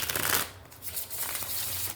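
Tarot cards being shuffled by hand, a continuous papery riffling and sliding that swells at the start and runs steadily close to the microphone throughout.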